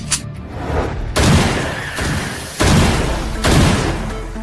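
Gunshots at target shooting practice, several loud sharp reports spaced about a second apart, each with a short echoing tail and no speech.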